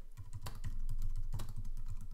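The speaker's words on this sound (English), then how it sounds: "You can hear me typing probably." Rapid typing on a computer keyboard, a dense run of quick clicks with a couple of louder key presses, close and clear with no voice.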